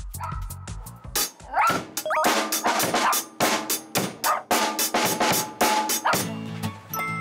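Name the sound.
dog barking loudly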